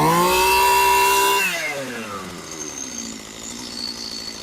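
A STIHL MS211 chainsaw, freshly carb-cleaned, runs at high revs with a loud buzzing whine, then drops off and settles into a rough, lower idle that keeps puttering steadily to the end.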